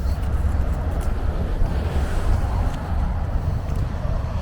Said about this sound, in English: It's a bit breezy today, so I might be picking up a bit of a wind through this